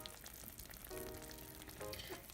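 Food bubbles and sizzles in an Instant Pot after the lid comes off, a soft, steady simmering hiss with no voices.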